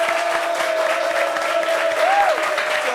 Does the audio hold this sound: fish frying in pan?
no